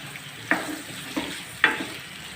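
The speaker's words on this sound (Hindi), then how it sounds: "ताकि प्याज फ्राई होना स्टार्ट हो जाए जल्दी से" Chopped onion fries in a pan and is stirred, giving a soft, steady sizzle with three short scraping stirs, and no one speaks.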